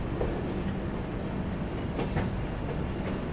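The Rajdhani Express rolls down a ghat section in Mizoram, heard from inside as a steady loud rumble with rhythmic wheel clatter and no talk.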